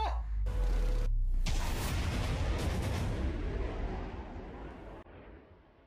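A naval warship's main gun fires at a sea target: one heavy boom at close range, then a long rumbling roar that slowly fades across open water, with a short voice heard just before the shot.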